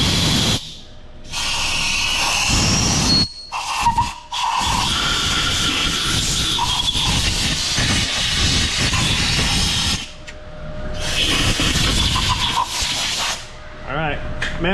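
Loud, sustained hissing bursts of brake cleaner spray in a shop during exhaust manifold work after broken bolt repair, several long sprays with short gaps, voices talking in between.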